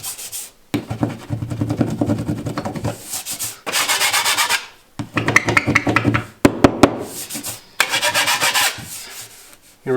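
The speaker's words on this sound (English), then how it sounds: "just kind of rub your knife over it" A drywall mud knife rubbed and scraped over a popped drywall screw head, repeated gritty strokes in short bursts separated by brief pauses, close and alone.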